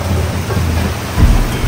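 A sudden heavy downpour pounds down in a loud, dense, unbroken hiss with low rumbling gusts, close and steady for the whole stretch, with no talking.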